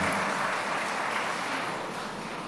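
A church congregation applauds with a dense, steady wash of clapping. It holds at an even level and fades slightly toward the end.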